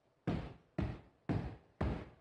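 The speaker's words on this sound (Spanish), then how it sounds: "vamos a sumar el sonido de nuestros pies" Four heavy stomps of feet on a floor at an even rhythm about half a second apart, each a loud close thud with a brief decay, with no voices.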